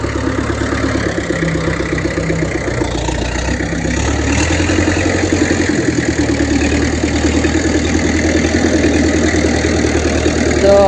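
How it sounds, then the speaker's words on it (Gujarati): A Mahindra 275 tractor engine idles loud and close on a farm, a steady low diesel throb with a knocking pulse that shifts slightly in pitch partway through, no voices. "આ ટ્રેક્ટર"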